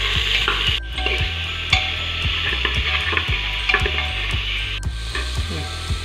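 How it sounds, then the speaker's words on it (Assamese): Onions and raw green chillies fry in hot oil in a pressure cooker for a local chicken dish, giving a steady close sizzle with repeated scraping stirs, and there is no talk. "পিঁয়াজখিনি আমি ভালকৈ আমি ৰঙচুৱা নোহোৱালৈকে আমি ভাজি থাকিম।"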